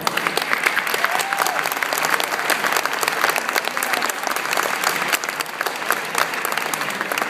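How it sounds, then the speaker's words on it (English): Sustained applause from a seated audience greeting a conference panel, dense and steady clapping with a few cheers mixed in throughout. "So now we can applaud our panel."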